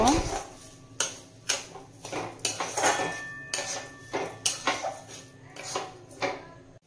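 Semolina and sugar stirred in a metal pan for a modak filling: a spoon repeatedly clinks and scrapes against the pan in a steady rhythm, close and fairly quiet.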